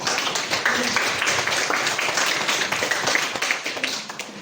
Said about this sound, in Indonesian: Sekali lagi mari kita berikan tepuk tangan.